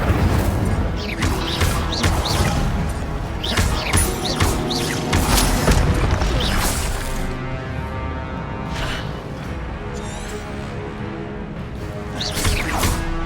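Incendio fire spell cast repeatedly in Hogwarts Legacy, with a run of loud whooshing bursts and crashing impacts over a busy game soundscape, up close and without talking.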